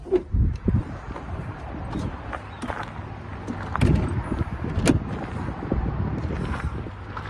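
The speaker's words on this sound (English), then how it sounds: "The winds are still crazy high." Gusty wind in Amarillo, Texas buffeting the microphone in irregular bursts of low rumbling thumps and rushes, with a few sharper knocks in between.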